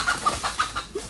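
A chicken clucks in a rapid series of sharp, agitated calls while it is being caught, several bursts in about a second, close and fairly loud over a noisy outdoor background.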